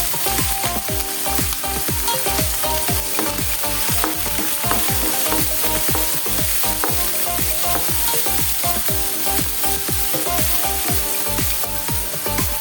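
Chopped onion, tomato, green chili and curry leaves fry in coconut oil with a steady loud sizzle, while a utensil stirs and scrapes in a regular rhythm throughout.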